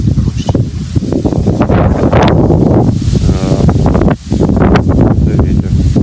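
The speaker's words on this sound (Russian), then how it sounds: "Это ветер." Strong wind buffets the microphone at a fishing spot, a loud, constant roaring rumble with gusty surges and rustling, briefly easing for a moment before returning, while a voice speaks under it.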